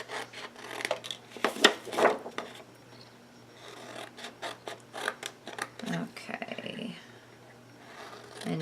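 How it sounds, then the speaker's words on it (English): Scissors cutting paper for a photo box, heard as close, dry rasping snips in short bursts, louder at first and then softer and intermittent. "You just want to cut it to the corner."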